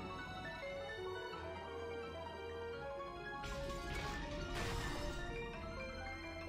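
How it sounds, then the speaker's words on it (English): Crashing and smashing bursts rise from Umineko When They Cry as destructive goats tear through a mansion, heavy impacts swelling over a sustained musical bed midway through, then fading back under the music. "The mansion was filled with the sounds of knocking, crushing, smashing, and chewing."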